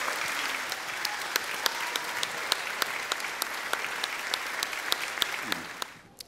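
Crowd applause rings out for a crew member standing on stage aboard a ship, steady clapping with a few sharp nearby claps on top, fading out near the end.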